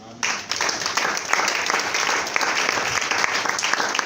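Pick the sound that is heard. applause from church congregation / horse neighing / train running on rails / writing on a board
applause from church congregation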